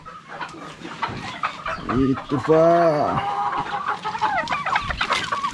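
Hungry chickens and turkeys cluck and call close by at a farm beside a fish pond, a burst of loud squawking calls in the middle, with someone briefly speaking.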